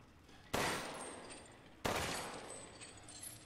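Two loud gunshots fire in Resident Evil Village, about 1.3 seconds apart, each a sharp blast followed by a long decaying echo over quiet game ambience.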